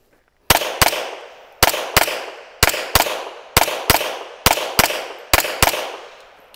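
Pistol shots fired in quick pairs during a doubles shooting drill, loud and close, five evenly spaced double-taps, each crack trailing into a short reverberant decay, no talking.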